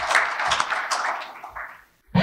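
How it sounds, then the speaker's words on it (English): Audience applause at a wind energy conference workshop in Wayne County, a dense wash of clapping lasting about two seconds, then a brief pause before another short burst starts. "Let's give him a big round of applause."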